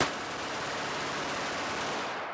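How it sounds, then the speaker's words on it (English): A pistol fitted with a coin-sized machine gun conversion device and an extended magazine fires a continuous full-auto burst, a dense unbroken roar of rapid shots lasting over two seconds with no talk. "let's see the difference when a small device, only the size of a coin, is added to a gun with an extended magazine."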